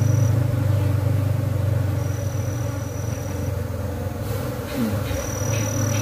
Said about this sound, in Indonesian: walaupun si lebahnya berhamburan, kita itu harus santai Pak